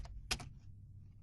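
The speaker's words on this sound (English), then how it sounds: "now let's start typing" A few quick clicks on a computer keyboard, two or three brief key taps close up, while coding a C# LINQ query, then quiet hum.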